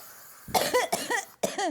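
A run of harsh, raspy coughs comes in close succession, three bursts with brief pauses between them, loud and close.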